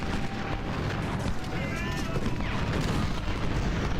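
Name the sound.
artillery fire in video game Ultimate General: Civil War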